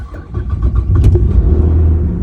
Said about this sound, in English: so starting a car.